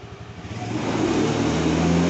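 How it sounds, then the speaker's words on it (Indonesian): An engine revs as the throttle is opened, a mid-pitched motor hum swelling steadily louder and higher over about two seconds, heard close with no voices. "Nah, ini sekarang kita coba tarik gas dulu"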